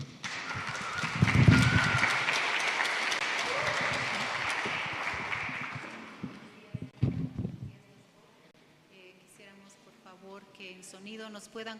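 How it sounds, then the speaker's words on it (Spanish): A church congregation at a Sunday service in Quechua applauds loudly for about six seconds, the clapping fading out as organ or keyboard music and singing take over. "entonces vamos a aplaudir."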